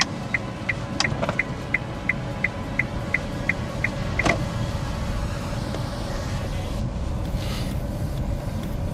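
A car pulls away and drives on a city road during a driving-test route, its engine a low steady rumble throughout, with a regular ticking indicator repeating in the first few seconds.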